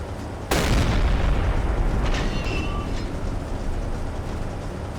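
Submarine deck gun in Silent Hunter 3 fires a single loud, booming shell shot, followed by a sustained rumble and low roar of sea and engine noise, with faint distant tones.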